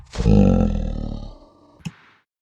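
A slowed, time-stretched vocal sample with spooky effects gives a deep, growling, roar-like swell that fades over about a second and a half, then a short sharp blip and quiet tail.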